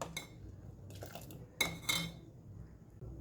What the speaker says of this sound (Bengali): মিডিয়াম ফ্লেমে রেখে মাঝে মাঝে এইভাবে হাতা দিয়ে নাড়তে থাকবেন